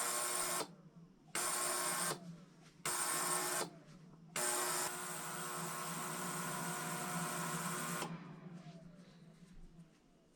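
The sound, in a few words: ultrasonic cleaner running with brass cases in fluid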